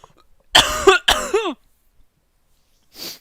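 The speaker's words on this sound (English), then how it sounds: "I would like to say that I'm going to cough again." Two harsh, close coughs in quick succession, followed after a pause by a brief breathy exhale or throat sound.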